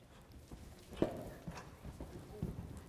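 A horse canters in an arena during a show jumping clinic, with faint rhythmic hoof thuds on the soft footing, fairly distant and quiet against a low background.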